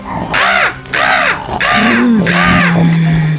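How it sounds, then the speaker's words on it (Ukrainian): Crows cawing loudly and close, four harsh calls in a steady rhythm, each about a second apart. "Всі ворони з'їдять бабусині рослини."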